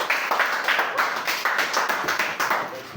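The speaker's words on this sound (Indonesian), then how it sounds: "berikan tepuk tangan untuk kelompok 1" A short burst of rapid hand clapping from a small group, close and lively, lasting a few seconds.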